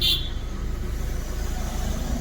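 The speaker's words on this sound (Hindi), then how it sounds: "अभी सेल्फ लगाएंगे, सीधा गाड़ी स्टार्ट हो जाएगा।" A Maruti Suzuki Swift engine, from a car with a transponder-chip no-start fault, gives a steady, close, low mechanical rumble throughout, with a brief higher whine at the very start and no voices.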